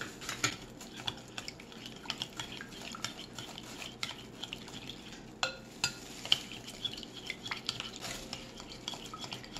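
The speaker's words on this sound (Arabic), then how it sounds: "ونقلب كويس بقى" A utensil stirs chicken seasoned with garlic, paprika and thyme in a pan, with steady scraping and clinking against the metal over a faint sizzle, the scrapes coming in an irregular, close rhythm.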